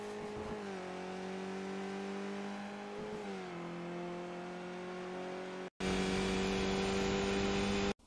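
A Skip Barber race car engine in the iRacing sim at Tsukuba holds a steady high whine, dips briefly as the revs shift, climbs again, then cuts out for a moment before returning louder and clean.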